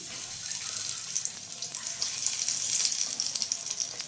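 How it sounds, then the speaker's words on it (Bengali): Eggplant slices coated in rice flour frying in hot oil, a steady dense hiss and crackle that swells slightly as pieces settle, continuous and close with no talking. "তেল গরম হয়ে গেছে এবার একটা একটা করে বেগুন আমি বসিয়ে দিচ্ছি"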